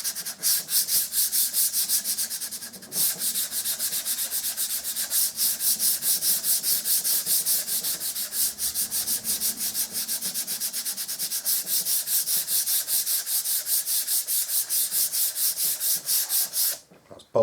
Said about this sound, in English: That's both the undercoats sanded.